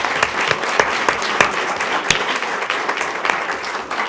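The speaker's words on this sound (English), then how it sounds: "give them a round of applause" Audience applause at a school board meeting, a dense steady clatter of many hands clapping, close and sustained throughout with a few louder sharp claps standing out.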